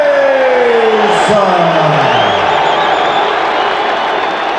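A large arena crowd at a heavyweight championship boxing match roars in a loud, sustained wash of cheering and whooping that never lets up, with a voice calling out over it.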